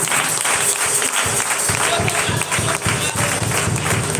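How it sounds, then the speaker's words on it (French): A church congregation at a worship service applauds and cheers, producing a dense, continuous wash of clapping and crowd noise with a rhythmic pulse and voices mixed in. "Continuez d'acclamer."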